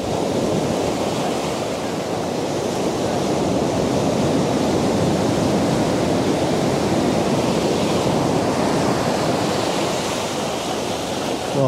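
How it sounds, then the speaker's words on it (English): Ocean waves surge onto the shore at a coastal sunrise location, a loud, steady wash of surf that swells and recedes without pause and with no voices over it. "So these waves come in cycles"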